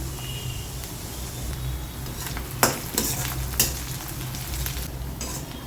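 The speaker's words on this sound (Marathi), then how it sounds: "त्यामध्ये आता आपल्याला मिरच्या घालून घ्यायच्या आहे यामध्येच हे आठ दहा पानं कडीपत्त्याचे घालायचे" Green chillies and curry leaves frying with onion in a pan for kande poha, a steady close sizzle with a few sharp stirring clatters midway.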